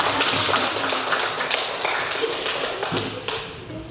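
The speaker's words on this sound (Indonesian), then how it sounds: "Kita berikan aplaus untuk kelompok 2" A classroom of students claps for a presenting group, a dense patter of many hands at moderate distance that holds steady for a few seconds before thinning out.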